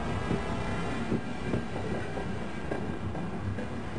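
Rumbling train in a video game, rolling steadily with faint rhythmic clacks and knocks from the wheels, loud and continuous throughout, no one speaking.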